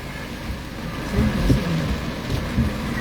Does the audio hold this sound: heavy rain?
yes